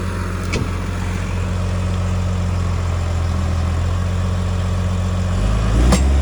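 A tractor engine pulling a Veles Agro plough drones steadily at close range, a heavy low rumble that deepens and grows louder near the end.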